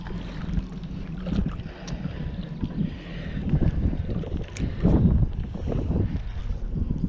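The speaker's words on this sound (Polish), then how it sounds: "Ten wiatr, cholera, jest niezbyt fajny dzisiaj. Daje trochę popalić." Gusty wind roars into the microphone at the Zalew Brodzki reservoir during a feeder fishing session, a continuous low buffeting rumble that swells and fades, with no voices.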